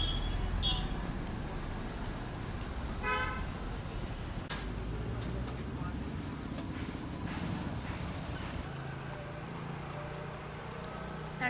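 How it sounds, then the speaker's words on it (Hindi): A traffic jam in Delhi rumbles steadily in the background, with a few short car horn toots breaking through, all fairly faint and distant. "इतना लंबा ट्रैफिक जाम है, अरे बाप रे बाप। और गाड़ियाँ आए जा रही है"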